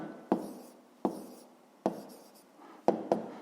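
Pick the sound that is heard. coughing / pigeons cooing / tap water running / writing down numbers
writing down numbers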